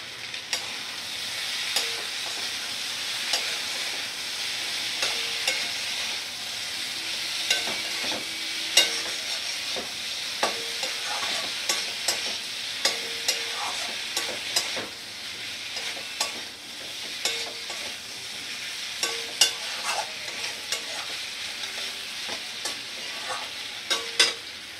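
Cauliflower and potato frying with Kashmiri chili powder for a vegetarian curry: a constant close sizzle under repeated sharp scrapes and taps of a spoon stirring the pan, with no voices.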